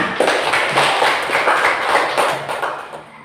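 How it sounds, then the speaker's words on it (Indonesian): Classroom applause from a group of pupils during a lesson, a dense burst of many hands clapping together that carries steadily and fairly loud for about three seconds before easing off. "tepuk tangan"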